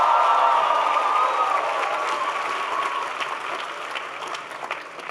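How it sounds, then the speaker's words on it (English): A large audience applauds at a presidential address to young African leaders, dense clapping with faint cheering that starts strong and slowly tapers off over a few seconds. "Please give Emmanuel a big round of applause."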